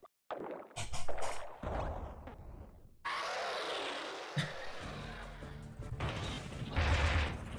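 Hammer Lord's charged hammer flip attack in the video game Kirby Planet Robobot, a string of heavy whooshing swings and crashing impacts with a long roaring charge-up, loud and close, with no talk over it.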